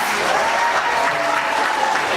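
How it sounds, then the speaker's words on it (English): A dense, steady round of audience applause fills the room at a birthday celebration for Carl Ali Joseph. It is loud and continuous throughout, with no talking. "Please stand up and give him a big round of applause."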